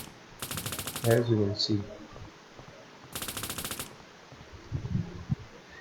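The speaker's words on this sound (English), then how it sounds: "whenever we shoot it will play the sound" A gun fires in a Counter Strike style game built in Unity, with two short rapid bursts of automatic fire, loud and crisp, separated by a pause, while someone talks briefly between them.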